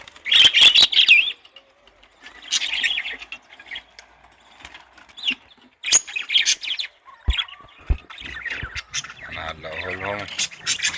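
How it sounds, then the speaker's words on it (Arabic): Young pet finches in an aviary cage chirp in short bursts of high tweets, close by, with occasional fluttering and a voice talking over them. "ده عصافير لسه صغيرة"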